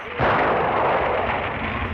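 A gunshot in the film Seven Samurai booms out suddenly, a loud close blast whose rumbling report lingers and decays slowly.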